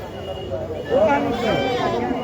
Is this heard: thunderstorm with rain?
no